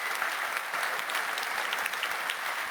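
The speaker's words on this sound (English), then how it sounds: "Warm round of applause from Eindhoven and around the world" Steady, dense applause from a large audience at the ASML Manufacturing Day plenary in Eindhoven, sustained clapping throughout without a break.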